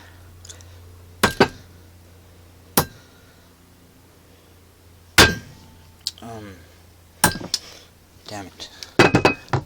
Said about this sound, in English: and then you get a hammer, and then you hit it.